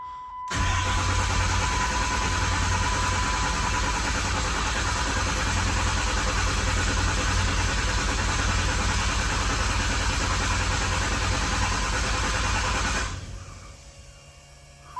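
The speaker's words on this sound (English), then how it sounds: "jump box is hooked up. Hopefully our starter has had time to recover." Car engine cranking on a jump box with a weak starter, then running at a loud, steady, close idle for about twelve seconds before it cuts off abruptly.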